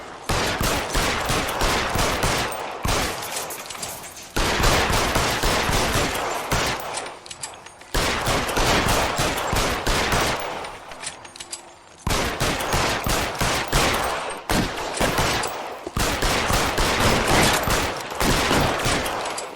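L.A. Noire gunfire keeps up in long, loud rapid bursts, with rattling shots packed close together and brief pauses between volleys. No one speaks.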